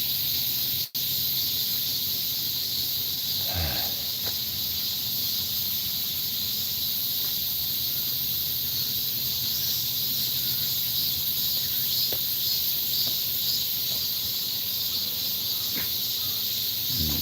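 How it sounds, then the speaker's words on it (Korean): A dense, high-pitched buzz of cicadas fills a forest steadily and unbroken, with a faint scuff or two in the background. "온통 숲을 매미 소리가 뒤덮고 있네요"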